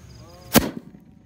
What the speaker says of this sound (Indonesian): Selanjutnya kita nyalakan mercon Bima Sakti 4. Ini meledosnya 2 kali ya, di bawah dan di atas.